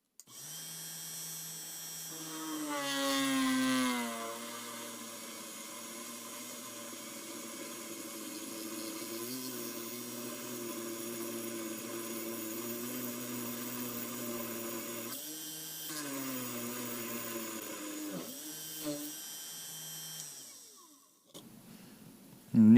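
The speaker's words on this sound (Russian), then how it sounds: "Сверление сверлом на 3 мм," A small benchtop drill press runs steadily and loud while its 3 mm bit bores into 10 mm thick steel, a whining motor tone with shifting cutting noise that spikes near the start and fades out at the end.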